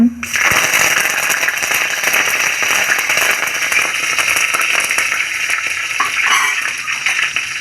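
Curry leaves dropped into hot tempering oil with mustard seeds crackle and sizzle loudly and close up, a dense continuous spatter with sharp pops and occasional utensil clinks.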